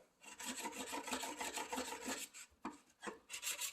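A steel chisel is rubbed back and forth on a sharpening stone, giving steady rasping strokes that continue throughout at close range, with a short pause and then a few more strokes near the end.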